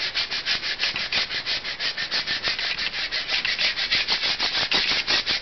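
A brush scrubs a car tire in quick, rhythmic back-and-forth strokes, a close, steady bristly rasping that repeats evenly for several seconds with no voices.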